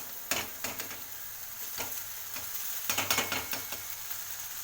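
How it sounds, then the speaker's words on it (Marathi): Rice being stir-fried in a pan, with a steady sizzle broken by repeated scraping strokes of a spatula at an uneven rhythm, heard close and alone. "आता मी हा राईस याच्यामध्ये घालणार आहे आणि छानपैकी परतून घेणार आहे."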